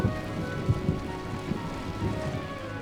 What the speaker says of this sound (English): It began to rain, adding to both sides' discomfort.